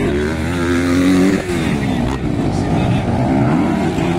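Two Honda and one Yamaha racing motorcycles in an expert elimination round roar together with high, overlapping engine whines that rise and fall continuously, with a commentator talking over them.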